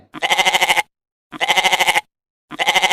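A goat bleats three times, each cry loud, close and wavering in quick pulses, separated by brief silences.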